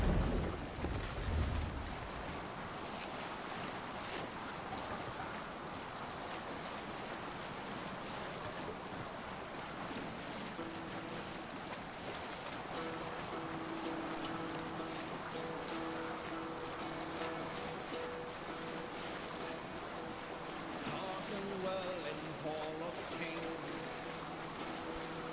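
A Viking ship in Assassin's Creed Valhalla sails across the sea, with steady rushing water and wind washing continuously around the hull, and a voice calls out briefly near the start.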